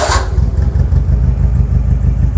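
A Locost Seven kit car's 2T GEU engine runs steadily on a dyno, a loud continuous low drone with a pulsing throb and a brief higher burst at the very start.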